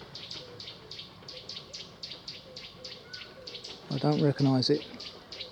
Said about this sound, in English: Possibly a warbler of some kind.